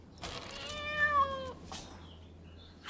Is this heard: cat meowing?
yes